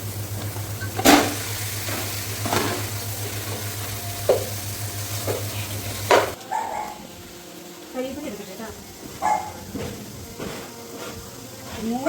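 Chicken pieces coated in chilli powder, turmeric and salt fry in masala in a home kitchen for a chicken curry, with a steady sizzle and intermittent stirring clatters; a dog barks in the background.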